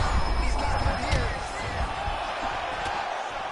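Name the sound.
crowd cheering in a video game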